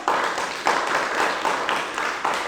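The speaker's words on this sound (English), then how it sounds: "give them a round of applause" Audience applause for quiz show contestants after a geography round, a steady dense wash of clapping from a nearby crowd with slight surges, no talk over it.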